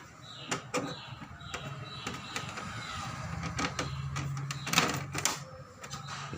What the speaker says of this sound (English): Open the cartridge cover.